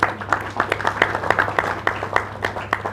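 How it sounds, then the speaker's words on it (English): A small audience at a company's annual general meeting claps in scattered, uneven bursts for a few seconds. The sharp, distinct hand claps sound close and fairly sparse, like a modest gathering rather than a large crowd. "Clap now."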